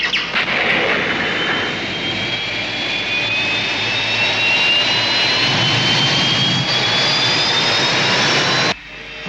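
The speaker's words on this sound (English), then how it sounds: "Rescue ship moving." Rescue spaceship engine from a science-fiction series, a loud sustained jet-like roar with a rising whine that holds for several seconds and then cuts off abruptly near the end.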